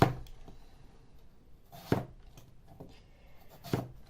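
A knife cuts raw potatoes into small pieces on a board in a home kitchen, giving a handful of sparse, crisp chops spaced irregularly, close and fairly quiet with no talking.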